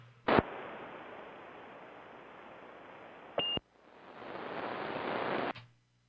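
A ham radio's Roger beep closes an over-the-air transmission, a short tone burst at the end of a stretch of hiss and static, with a brief click and a noise tail on either side.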